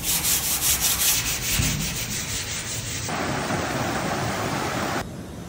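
Steady abrasive sanding scrapes rust from steel railings at a nature spring campsite, a continuous close, loud rubbing texture with rhythmic strokes early on, then a smoother constant hiss that drops off near the end.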